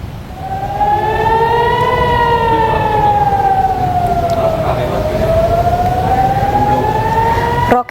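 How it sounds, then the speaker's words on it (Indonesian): An air raid siren wails continuously over Nahariya, Israel during a rocket attack, its loud tone rising, falling and rising again in a slow sweep above a rumbling background. "Sirine pun terus berbunyi tanpa henti saat rudal memasuki langit kota Nahariyah"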